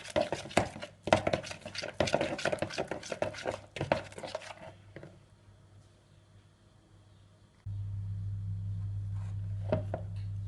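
Yogurt being stirred into oat cookie dough in a bowl: a run of clinking, scraping strokes up close for about five seconds, then quiet, then a steady low hum.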